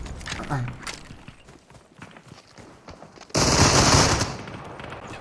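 Gunfire in the battle royale game Super People: a sudden loud, dense burst of rapid automatic shots that lasts about a second, then trails off, following a stretch of quieter game sounds and background noise.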